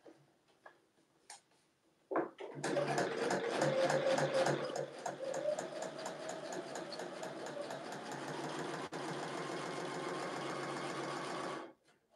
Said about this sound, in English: Now sew through that and see if it's any better.